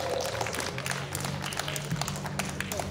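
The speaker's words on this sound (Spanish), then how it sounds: "El aplauso fuerte para el pequeño Abel." Loud applause from a crowd gathered at a 50th anniversary celebration for young Abel, dense continuous clapping filling the room for the full stretch with no talk over it.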